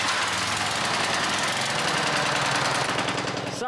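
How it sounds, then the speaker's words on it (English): Gas pressure washer running steadily while cleaning a concrete floor, a loud, constant engine drone mixed with a hissing spray that continues nearly unbroken to the end. "Time to power wash."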